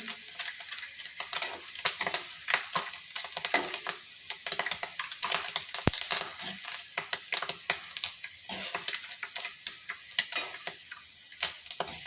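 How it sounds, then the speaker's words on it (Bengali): Sago pearls frying in hot oil, giving a dense, continuous crackle and popping like puffed rice being roasted, steady and close with no talk. "আওয়াজটাও কিন্তু খই ভাজার মতো হচ্ছে"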